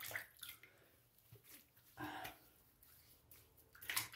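Water from a tap running and splashing in bursts as a Baili BR177 safety razor is rinsed between shaving passes, close and moderately loud with short pauses.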